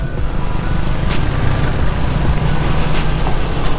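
A Suzuki GSX-S150 motorcycle engine roars loud and close, holding high revs through a clutchless upshift, a dense continuous drone with wind noise and no talk.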